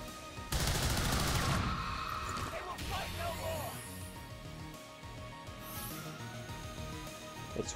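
Gunfire in XCOM 2 comes as a sudden loud burst of rapid shots, then fades into a rumbling, crackling tail of impacts and debris with faint game ambience.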